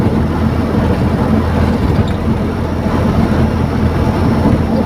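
A Mitsubishi Colt T12SS engine drones steadily under load on a test drive, a continuous low, rough hum with no clear rise or fall, heard from inside the vehicle.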